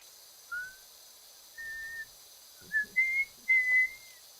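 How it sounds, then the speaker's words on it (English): Someone whistles a few short, thin tones with pauses between them, close and clear against a quiet background. "Not very good at whistling, which always makes me sad."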